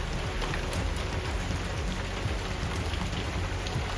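Steady rain from the outer bands of Hurricane Milton falls without letup, a dense continuous hiss of drops on surfaces close by, loud and unbroken with no voices.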